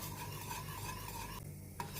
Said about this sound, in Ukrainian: Ложкою так не буде виходить, потрібно вінчиком. І по дну, щоб аж скриготіло, ви чуєте?